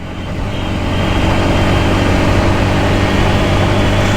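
A motorcycle engine, a bike ridden in its break-in period, drones steadily in fifth gear as it accelerates, swelling slightly in the first second and then holding a loud, even roar mixed with wind rush.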